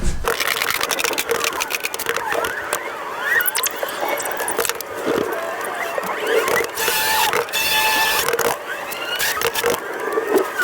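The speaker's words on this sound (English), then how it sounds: "I've got my impact driver and a 10mm socket inside." An impact driver fitted with a 10mm socket rattles and whines almost continuously while unbolting a metal bulkhead inside an empty Peugeot Boxer van, with loud, dense mechanical chatter and squeals close by.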